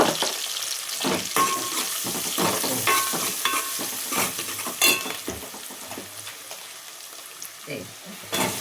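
Curry leaves and turmeric frying in a pan while a spoon stirs and scrapes, giving repeated clinks and scrapes over a steady sizzle, close and fairly loud, with a voice talking in between.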